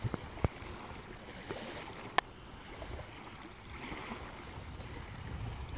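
Gentle water lapping at a beach where sea glass washes up, a soft continuous wash with a few sharp knocks and clicks scattered through it, fairly quiet and with no voices.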